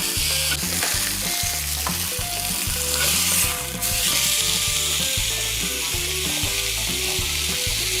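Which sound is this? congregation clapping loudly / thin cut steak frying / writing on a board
thin cut steak frying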